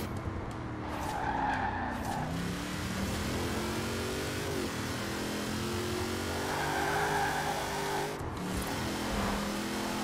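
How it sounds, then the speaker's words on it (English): A 1973 Range Rover drifts in the racing game Forza Horizon 4: a steady engine drone with long tire squeals and skidding that rise and fall over ten seconds, loud and close, with no talking. "Drifting a Range Rover."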